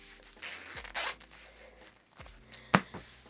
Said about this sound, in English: And then let's do the zip.